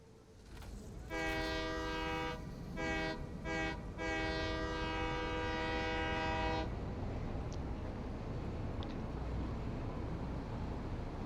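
A train passing in a video game during a nuclear fuel production rebuild, with a long steady multi-tone horn blast that stutters briefly before holding, then cuts off, leaving a continuous rumbling rail noise underneath.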